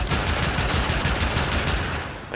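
Pyrana Prime shotgun in a video game firing at a high fire rate: a dense, continuous rattle of rapid gunshots, loud and up close, holding steady for the full stretch before easing slightly at the end.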